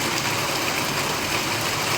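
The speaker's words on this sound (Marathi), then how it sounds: "पाऊस पडतो बघा." Light rain falls in Chiplun, a soft, steady wash of hiss with no distinct drops or voices.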